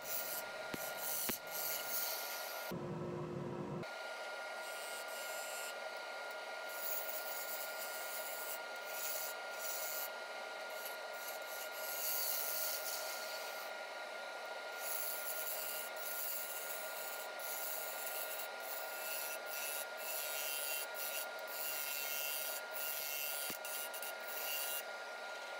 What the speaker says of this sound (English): back to the bowl gouge here to start hollowing out the inside